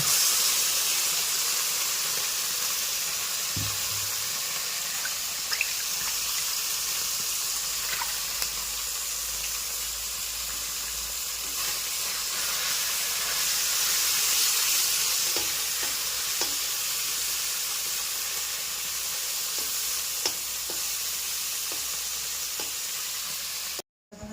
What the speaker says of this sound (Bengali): কড়াইয়ের মধ্যে মাছটি ঢেলে দিল।